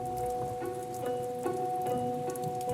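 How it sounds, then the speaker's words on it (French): Steady rain falls in Paris, a soft even patter of drops on surfaces, with a faint tonal hum running underneath and no voices. "la pluie n'a toujours pas cessé."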